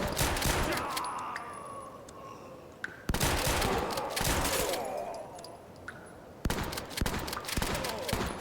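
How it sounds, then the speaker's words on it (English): Shotgun blasts in Door Kickers 2, a tactical game, come as loud sharp bursts in irregular clusters with short echoing tails between them. "Who's shooting a shotgun right now?"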